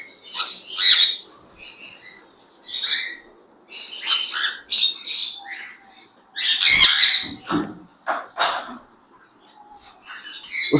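Sun conure parrots calling nearby in sharp, piercing bursts of squawks and chirps, loud and irregular with short gaps between outbursts.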